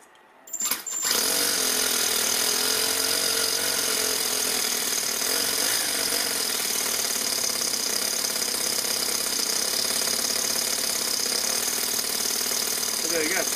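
A small engine roars continuously close by at high revs as the clutch engages, a dense buzzing drone starting abruptly after a brief quiet moment and holding steady to the end.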